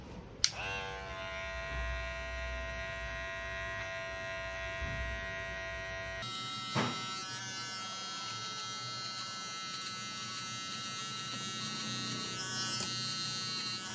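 Electric hair clipper giving a military haircut, a steady close-up mechanical buzz that runs unbroken throughout, its pitch shifting slightly partway as the blades move over the head.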